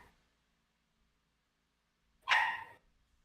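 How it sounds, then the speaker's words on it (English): A single sharp dog bark, distant and in the background, breaking an otherwise near-silent stretch. "Somebody got like a dog just going crazy in the back."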